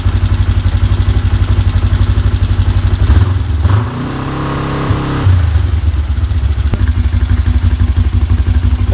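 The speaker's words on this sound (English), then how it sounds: "Let's do a cold start on this thing." A cold Kawasaki Ninja 500 (GPZ 500S) motorcycle engine running loud and close with a steady rapid idle pulse, briefly dipping as the starter engages and the revs change mid-clip before settling back into a firm idle.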